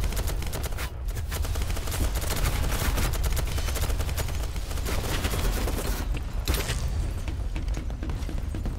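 Rapid, continuous gunfire in the BattleBit video game, loud and dense with overlapping shots throughout, no voices over it.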